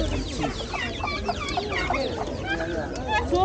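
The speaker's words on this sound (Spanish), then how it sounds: "Hay gallinas, pavos, miren." Chickens and turkeys at a busy small-animal market fair cluck and squawk continuously in a dense overlapping chorus, with a crowd murmuring in the background.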